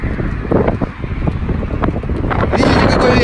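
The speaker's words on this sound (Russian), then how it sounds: "Видите, какой ветер?" Strong wind outdoors beside a car showroom in Saudi Arabia buffets the microphone with a loud, continuous rumbling roar that swells slightly toward the end.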